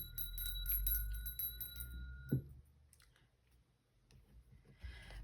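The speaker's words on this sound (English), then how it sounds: "I'm going to go ahead and ring the bell" A bell rung once rings with a clear, steady tone for about two seconds, then is cut off, followed by faint scattered clicks and rustles.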